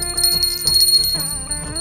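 A bright bell rings repeatedly in quick succession, close and loud, its metallic tone sustaining between strikes.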